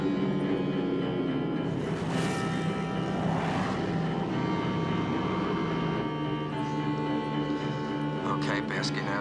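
Wartime aircraft approaching in an August 1940 radio drama setting, a sustained engine drone with propeller hum that builds and stays loud throughout, with voices speaking over it.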